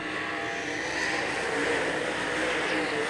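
Wissota modified race cars battle on a dirt track, a dense, continuous roar of several engines heard from a distance beneath a track announcer's rapid commentary.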